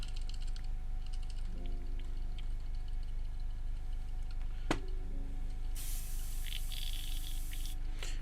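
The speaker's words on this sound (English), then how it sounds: "so get my airbrush. Start off with the orange." Airbrush spraying pre-thinned orange air paint while painting tabletop wargaming terrain, heard as faint hissing bursts over a steady background hum, with a sharp click midway and a stronger spray near the end.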